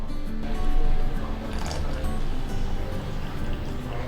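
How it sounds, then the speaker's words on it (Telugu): Milk poured into thick, smooth cooked ragi malt in a pot, a steady close liquid fill with soft gurgling and splashing that runs continuously for about four seconds. "ఇప్పుడు దీంట్లో మనం పాలు పోసుకుందాం"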